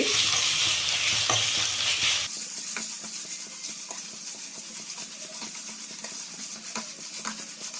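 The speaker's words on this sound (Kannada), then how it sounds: "ಫಸ್ಟ್ ಈರುಳ್ಳಿ ಫ್ರೈ ಆಗಲಿ ಅದ್ರ ಜೊತೆನೇ ಸ್ವಲ್ಪ ಕರಿಬೇವು ಹಾಕೊಳ್ತಾ ಇದ್ದೀನಿ ಈರುಳ್ಳಿ ಚಂದಕ್ಕೆ ಫ್ರೈ ಆಗಲಿ" Onions and curry leaves fry in a pan for an egg curry, first with a loud stir and sizzle, then a steady softer sizzle with light scraping and clinks, close and with no voices.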